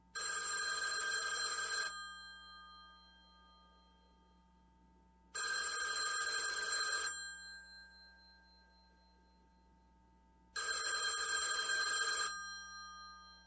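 Classic telephone bell ringing in three long bursts of about two seconds each, separated by pauses, with a steady low hum underneath and no voices.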